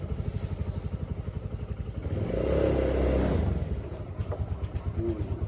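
Motorcycle engine running after a brake repair, a steady close idle with rhythmic pulsing that swells louder in the middle as if revved, then settles back to idle.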